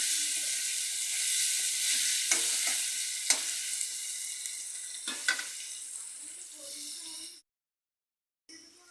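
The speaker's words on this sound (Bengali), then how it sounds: "এবার একটু আলুটা ভাজা ভাজা হয়ে গেলে আমি ঝিঙেগুলো দিয়ে দেবো" Potatoes sizzle steadily in hot oil with salt and turmeric in a pan for ridge gourd and rohu fish curry, a close continuous hiss with occasional stirring clicks before it abruptly goes silent.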